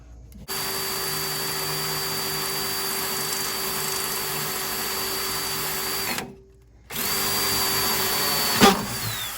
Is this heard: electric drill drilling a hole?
yes